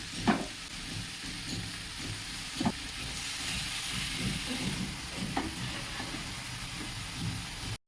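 Ash gourd pieces go into a hot pan with a catla fish head, frying with a steady hiss and sizzle and a few soft thumps and stirring scrapes, close and moderately loud, no voices.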